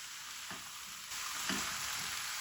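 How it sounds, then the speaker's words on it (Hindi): Salt and chili fry in a pan with a soft, steady sizzle. A couple of quiet stirring scrapes come through, and the sizzle rises slightly halfway through. "अब 1 मिनट इस तरह नमक मिर्च डाल के तो इसको फ्राई करेंगे"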